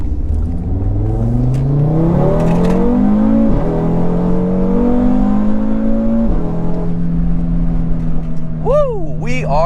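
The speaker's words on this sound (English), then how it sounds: "There's some of the popping in case you were wondering what I was talking about, the way that it sounds like there." An Audi RS3 drives hard on cold back roads, its engine loud and close as it revs up through rising gear pulls. The exhaust crackles and pops between shifts, with sharp chirping sounds near the end.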